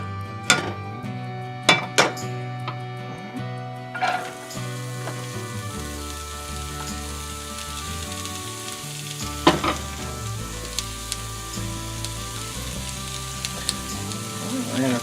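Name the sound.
food sizzling while cooking down in a pan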